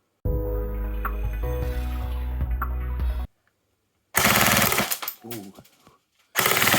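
An ASG CZ 805 BREN A1 airsoft gun fires a full-auto burst of about three seconds, a rapid buzzing rattle close by, then silence, then another burst with a voice reacting.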